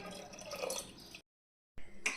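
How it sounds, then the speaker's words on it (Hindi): Water poured into curry gravy in a home kitchen pot before pressure cooking: a soft, splashy trickle that cuts out briefly and resumes with a brighter drip, close and quiet with no talk. "तो इसमें थोड़ा सा पानी हम और डालेंगे"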